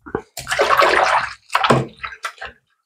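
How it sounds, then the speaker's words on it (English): Water rinsing dust out of a handmade G10 slingshot, several close bursts of running, splashing water separated by short pauses, with no talk. "Just wash that dust out of there."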